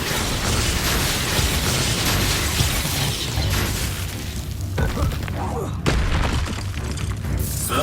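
Expulso blasting spells go off in the Hogwarts Legacy video game, dense booming explosions and crashing bursts with a sharp impact near the end, mixed with voices.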